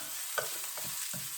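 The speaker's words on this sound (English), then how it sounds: "Trying to just saute just for a minute or so, just to get the onions to go a little bit limp." Onions and garlic sautéing in a pot, a steady close sizzle broken by a few soft scraping stirs.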